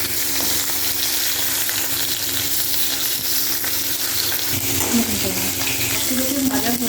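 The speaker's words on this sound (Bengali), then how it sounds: "মাছগুলো ভাজা হয়ে গেছে।" Rui fish frying in oil in a pan for a posto recipe: a steady bright sizzle throughout, with some clattering and a faint voice near the end.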